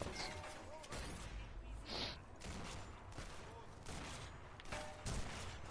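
Gunfire in the co-op campaign of the video game Sniper Elite 4, with scattered shots heard faintly over a busy, noisy game background.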